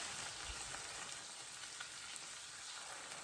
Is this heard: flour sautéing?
yes